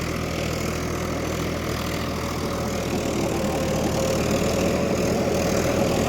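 A John Deere 5050D tractor engine runs steadily at 1600 rpm in low first gear, a continuous loud, even mechanical drone with a constant low rumble that holds throughout, no voices.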